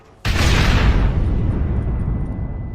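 Planted charges blow up at a gate in Red Dead Redemption, a sudden loud close explosion that bursts in after a brief quiet moment, then rumbles and slowly fades over a couple of seconds.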